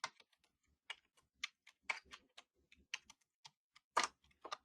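Irregular keystrokes on a computer keyboard, sharp clicks in uneven bursts with short pauses, close and clear with no talking.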